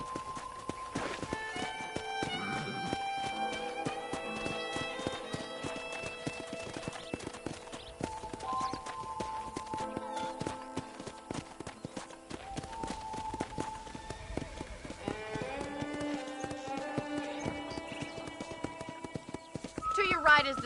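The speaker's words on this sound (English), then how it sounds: "let's see if you can still ride a horse" Horse hooves clip-clop steadily at a walking pace over game music in Red Dead Redemption, with a horse whinnying near the end.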